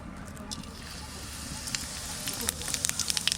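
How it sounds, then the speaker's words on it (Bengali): Cumin seeds sizzle and crackle in hot mustard oil in a pan, a close, steady frying hiss with sharp little pops growing denser toward the end, while someone talks over it. "সর্ষের তেল দিলাম জিরে আর রান্ধনি ফোড়ন দেবো প্রথম দেবো জিরে"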